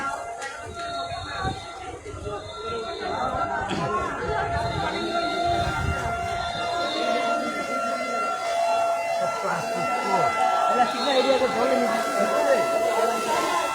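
Fire service vehicle sirens wail steadily at a five-storey building fire, holding sustained tones throughout amid loud crowd chatter and shouting nearby.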